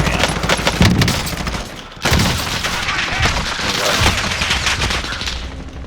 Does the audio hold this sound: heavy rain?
no